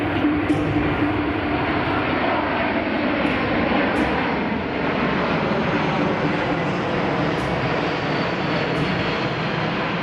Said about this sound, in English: The C-17 will now overfly the field to prepare for landing.